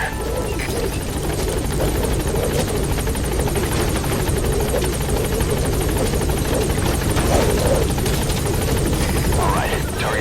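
A Metal Gear Solid V chopper hovers nearby with a steady, loud rotor beat and a turbine whine that hold for about ten seconds. A voice comes through faintly beneath the din at times.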